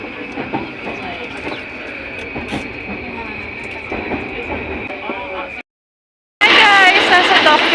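Tokyo subway train at a station, with a steady electric hum, rumble and clanking of cars under speech and station noise, cut briefly by silence before louder crowd and voices return.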